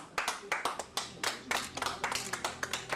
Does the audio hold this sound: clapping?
yes